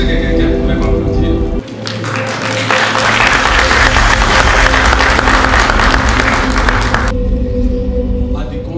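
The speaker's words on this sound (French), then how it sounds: "J'ai pensé que quelqu'un pouvait m'applaudir." An audience bursts into loud, dense applause for a speaker at a political gathering. The clapping swells after a brief lull, holds steady for about five seconds, then cuts back to a low background hum.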